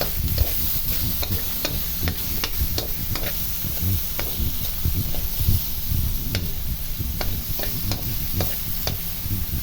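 Fish sauce goes into a hot pan of cooking food, sizzling steadily while a utensil stirs and scrapes with repeated sharp clicks, close and continuous, with no talking.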